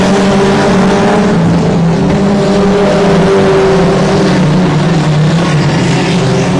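Race cars roar around the I-37 Speedway track in a steady, loud engine drone, several motors overlapping and shifting pitch as the pack passes.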